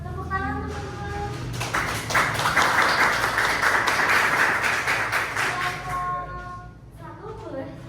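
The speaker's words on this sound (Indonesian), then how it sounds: "boleh tepuk tangan teman-teman" Classmates in a classroom break into a short burst of clapping that swells, holds for a few seconds, then dies away, with a speaking voice before and after it.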